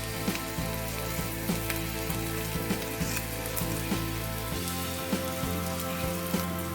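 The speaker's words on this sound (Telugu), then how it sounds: "ఇది ఇప్పుడు ఫ్రై అయింది. ఇప్పుడు మనం స్మాష్ చేసుకున్న ఆలును ఇందులో వేసుకుందాం." Mashed boiled potatoes go into a hot frying pan for an aloo paratha filling, giving a steady, close sizzle with soft crackling throughout and a few light clinks of the pan.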